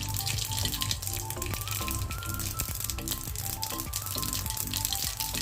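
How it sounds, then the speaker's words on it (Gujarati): A small spoonful of mustard seeds dropped into hot oil while cooking a Gujarati mixed vegetable sambharo: a steady, busy sizzle with rapid crackling pops, close and continuous, no voices. "હવે આપણું તેલ ગરમ થઈ ગયું છે તો એમાં એક નાની ચમચી રાઈ નાખીશું"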